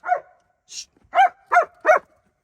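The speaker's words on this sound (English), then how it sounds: "I apologize for my vocal ass dog." A dog barks in short, sharp bursts, one bark followed by a higher yip and then three evenly spaced barks, close and loud against a quiet background.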